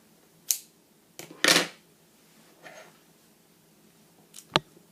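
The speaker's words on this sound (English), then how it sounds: "I'm going to cut the rest of the yarn off here." Scissors snip through leftover yarn at the end of a crocheted flower: a few short, crisp cuts spaced apart, with one longer rustling snip in between and a quiet background.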